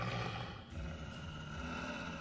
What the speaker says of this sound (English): There's like tons of wolves in there.